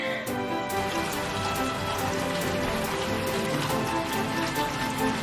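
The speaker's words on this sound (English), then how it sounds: "Is that rain? Where's it coming from? It's raining." Rain falls steadily on surfaces outdoors, a dense patter of drops with sharper individual splashes repeating throughout, moderately close, while faint tonal sounds hum underneath; no talking.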